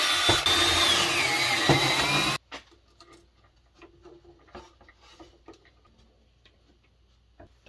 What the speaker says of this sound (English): I drill this side a little larger and then I can use the normal size screws